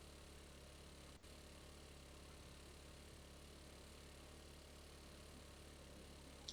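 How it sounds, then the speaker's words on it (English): A vehicle engine growls steadily in 7 Days to Die, a constant low drone with no change in pitch, heard alone with one brief dropout early on. "We're gonna have to listen to this growling engine the whole way."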